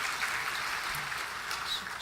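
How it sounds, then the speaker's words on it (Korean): Clapping from a Korean church congregation at a Sunday evening service, a brief even spell of moderate applause heard alone. "우리 하나님께 영광을 돌리고 우리 목사님에게 감사의 박수를 한번 하십시다"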